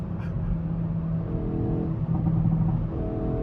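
A 2024 Hyundai i30N engine accelerating, a droning engine note rising in pitch through the gears as heard from inside the car.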